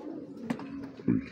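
Light-coloured Mili racer pigeons give a faint, soft low coo that runs through the short moment, with a brief tap and a fuller cooing note near the end.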